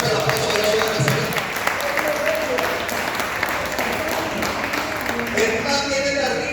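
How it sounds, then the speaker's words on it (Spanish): Congregation applauding in a church service, a dense, steady wash of clapping filling the whole clip at full loudness, with voices faintly mixed in beneath. "vamos a darle fuerte el aplauso a Jesús de Nazaret"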